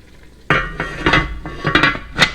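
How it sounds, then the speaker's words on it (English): A lid set back onto a pot of Irish beef stew made with Guinness, simmering on low heat. It gives a sudden metallic clatter, then a few lighter clinks and scrapes over the next two seconds. "Put the lid back on."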